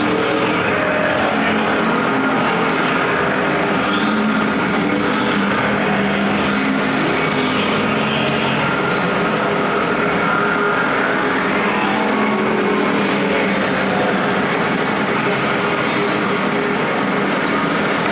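American Factory Stock race cars roaring around the dirt oval at Perris Auto Speedway during the main event, a dense continuous engine drone from a pack of cars at steady loud volume.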